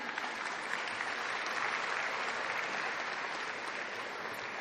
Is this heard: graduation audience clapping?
yes